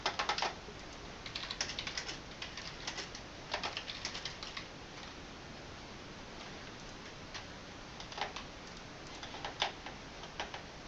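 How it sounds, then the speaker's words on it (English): Computer keyboard clicks and taps come quietly in scattered bursts and single strokes during an online Blood Bowl semifinal match, with short flurries separated by pauses over a faint background hiss. "Some keyboard clicks as Jack clicks around trying to work out how"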